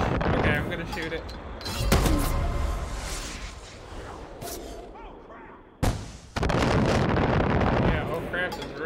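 Far Cry 5 multiplayer action: heavy, dense gunfire and explosive blasts roar close and loud, with a brief drop partway through before the din resumes, while players talk over the chaos.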